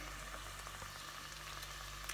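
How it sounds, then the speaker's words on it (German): Turkey meat sizzles steadily in a frying pan while pasta cooks nearby, a dense, even frying hiss filling the whole stretch with no talk over it. "Und da brutzelt dann mal das Fleisch dann."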